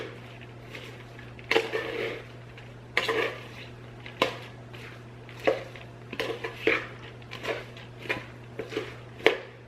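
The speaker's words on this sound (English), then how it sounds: "And then I just stir it up" Sauce being stirred with Splenda in a pot gives repeated scraping and clinking of a utensil against cookware, irregular strokes in a quiet kitchen with a constant low hum behind.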